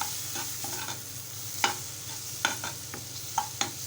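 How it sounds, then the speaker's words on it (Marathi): Tomato and Malvani masala mixture stirred in a pan for a Malvani potato dish: quiet frying sizzle beneath sharp spoon taps and scrapes against the metal, several distinct clicks spaced irregularly, close and soft, no speech. "आता आपण मालवणी मसाला घालूया मिश्रण छान एकजीव करून घेऊया"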